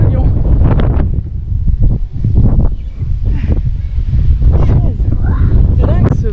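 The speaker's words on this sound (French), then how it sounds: "C'est dingue ce vent." Strong gusts buffet the microphone outdoors at the seaside in Netanya, a loud continuous low rumble and roar with brief swells, dominating the whole scene, with a few faint voices or bird calls mixed in.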